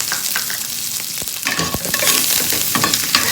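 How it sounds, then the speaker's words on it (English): Curry leaves and sliced green chilies crackle and spit in hot oil with urad and chana dal as they are stirred, sharp pops over a dense sizzle that grows louder, close and without speech. "Then I'm adding curry leaves and 4 green chili slips."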